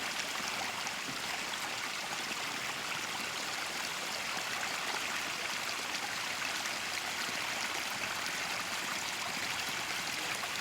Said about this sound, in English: There's a lot of water.